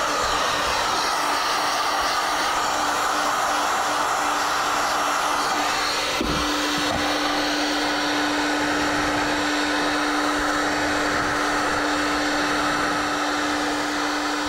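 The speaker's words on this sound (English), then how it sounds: "Anytime you're working with a heat gun, just keep it moving." A handheld heat gun blows steadily at close range while warming a Kydex holster shell for a hybrid leather IWB holster, a constant loud whooshing roar with a thin whine, briefly dipping around the midpoint before continuing unbroken.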